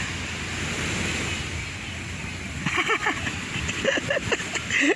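Sea waves wash continuously onto Jomtien beach with steady surf roar and wind, while a few brief splashes and scuffs near the microphone break in over the last couple of seconds.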